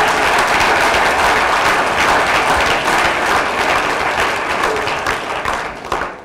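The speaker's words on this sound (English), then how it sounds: "let's have a round of applause for them" A live audience breaks into loud, sustained applause, dense overlapping claps that hold steady for several seconds before tapering slightly at the end.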